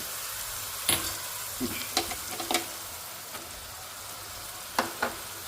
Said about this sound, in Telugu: ఇది కొంచెం మనం వేయించుకోవాలి కొద్దిగా ఆయిల్లో